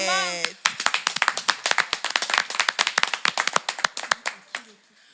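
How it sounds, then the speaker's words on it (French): A small audience claps for a performer on a stage at a mbolé music show, loose and uneven, with sharp individual claps ringing out in a scattered rhythm after a brief voice at the start. "Soit un tonnerre d'applaudissements."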